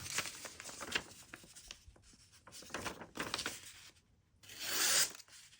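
Knife blade slicing through paper in a paper cut test, a run of close, dry scratchy swipes and rasps with short pauses and a louder final cut, no voices.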